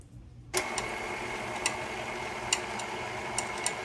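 An electric mixer whirs steadily through soy wax frosting after switching on abruptly, a continuous motor drone with a few faint periodic clicks or knocks, no voices.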